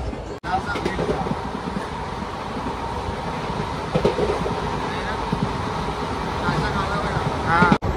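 A passenger train travelling from Mumbai to Tirupati rumbles steadily from inside the coach, a continuous rolling drone with faint rail clatter while people talk over it.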